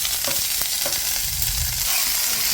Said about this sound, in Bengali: প্যানের মধ্যে একটু তেল নিয়ে তার মধ্যে দিয়ে দেব ফোড়ন ওর দিয়ে দেব বেটে রাখা আদা